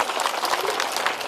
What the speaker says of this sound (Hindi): एक बार जोरदार तालियां हो जाए आप सबके इंतजार के लिए।